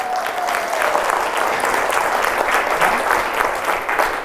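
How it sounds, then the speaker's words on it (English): An audience at a showcase applauding the speaker's dad, a loud, steady wash of many hands clapping that continues evenly throughout. "Let's give my dad a big round of applause"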